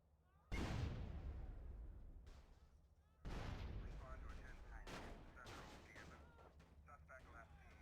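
Two heavy blasts from satchel charges detonated on a car in GTA San Andreas, the first loud and sudden, the second a few seconds later followed by lingering rumble and debris noise.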